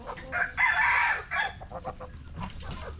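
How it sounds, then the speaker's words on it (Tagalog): A rooster crows loudly and close by, with a few shorter clucks and calls from other chickens following, no talking. "hopefully sana naman po ay mapalaki natin itong ating mga sisiw"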